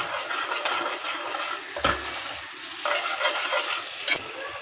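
Arvi masala stirred in a pan, with a spoon scraping and clinking against the metal in irregular strokes over a soft background sizzle, fairly close and moderately loud.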